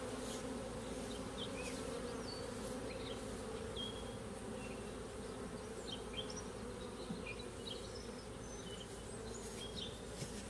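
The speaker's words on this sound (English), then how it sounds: "A lot of these bees will fly back" Russian honey bees buzz steadily around open hive frames during a swarm inspection, a dense continuous drone with individual bees zipping past close to the microphone.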